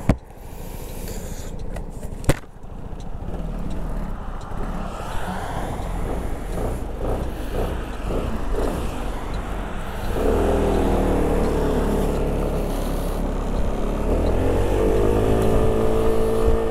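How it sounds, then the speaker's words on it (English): A 2011 Genuine Scooter Company Blur scooter riding on a brutally cold day, its engine droning and revving steadily and swelling louder partway through, mixed with road and wind noise, with a sharp knock near the start. "as we get started on this test ride of this 2011 Genuine Scooter Company Blur"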